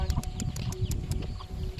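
Chickens clucking in quick short bursts nearby, a busy rhythmic chatter of fowl sounds with some rustling.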